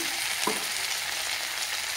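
Panch phoron spices fry in hot oil for Bengali-style kochu shak with hilsa fish head, a steady close sizzle with a faint stir near the start.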